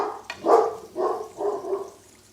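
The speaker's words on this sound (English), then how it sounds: "heard another dog. Yep, guard dog on duty." A guard dog barks three times in quick succession, each a short, fairly loud woof at moderate distance, with no talk over it.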